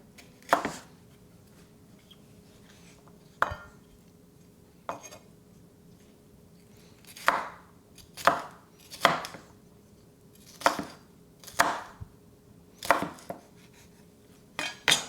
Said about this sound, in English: we're dicing this, so I think I can actually. This is going to go into our rice mixture anyway